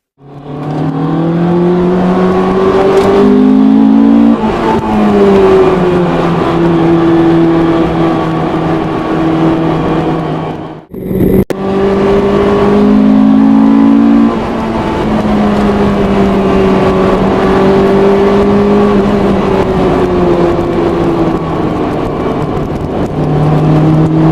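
A wrapped Lamborghini engine revs loud and close, its pitch climbing and falling through sustained blips with a brief cut in the middle before it roars again.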